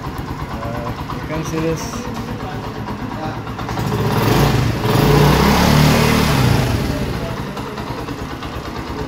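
A new Honda motorcycle idles close by with a steady low engine rumble that swells briefly in the middle, while someone talks over it.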